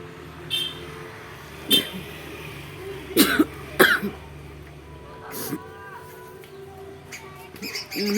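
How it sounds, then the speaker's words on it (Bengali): A woman trying to sneeze coughs instead, producing several sharp, close coughs and throat-clearing bursts spaced across the stretch, with quiet breathing and faint background noise between them. "হাসির বদলে আমার কাশি হয়ে যাচ্ছে"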